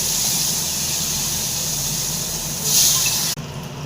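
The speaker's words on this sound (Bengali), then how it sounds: "পনিরটা হালকা করে ভেজে নেব। তেল গরম হয়ে গেছে, তেলের মধ্যে একটু হলুদ দিয়ে দিয়েছি।" Paneer frying in hot oil seasoned with turmeric, a steady broadband sizzle and hiss that holds throughout, briefly flaring louder near the end before dropping off.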